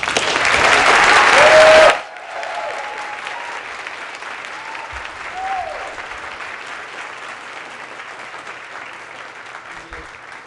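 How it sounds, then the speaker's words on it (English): An audience claps loudly for the President and First Lady, a dense burst of applause lasting about two seconds that cuts off abruptly, followed by a quieter room with faint murmuring. "give a round of applause to the President and First Lady of the United States"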